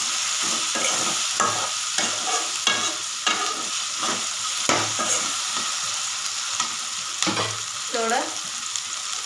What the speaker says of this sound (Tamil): தக்காளியும் நல்லா வதங்கிருக்கு,